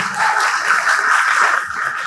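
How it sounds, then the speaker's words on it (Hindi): An audience claps together at a Diwali event at the Lahore YMCA, a steady wash of applause lasting a couple of seconds without pause. "जरा आप तालियां बजा के अपनी खुशी का इजहार एक मरतबा करते"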